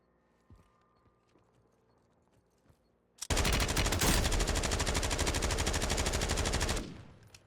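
Sustained automatic gunfire in the shooter game Warzone, fired through walls to hit a hidden enemy: a loud, dense rapid burst of around three and a half seconds that erupts after quiet and then trails off.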